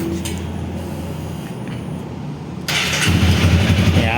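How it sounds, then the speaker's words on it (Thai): A 2017 Honda Rebel 300 motorcycle is heard idling softly, then its engine fires up at close range partway through and settles into a louder, steady running rumble. "เดี๋ยวลองสตาร์ทกันดีกว่าครับ"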